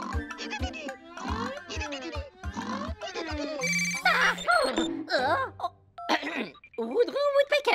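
A telephone rings in a Woody Woodpecker cartoon, an electronic trilling ring that comes in bursts between lively cartoon voices talking and exclaiming.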